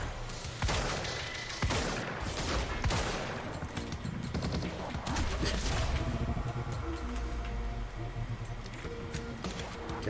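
Bursts of rapid gunfire in the shooter game Quantum Break, dense volleys and single shots crackling loud and close in irregular clusters, with no talk over them.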